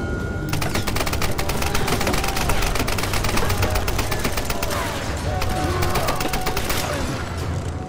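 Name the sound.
gunfire, from video game Tomb Raider (2013)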